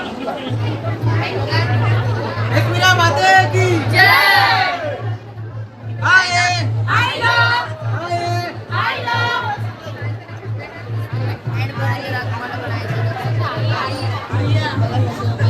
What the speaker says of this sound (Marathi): किती गर्दी आहे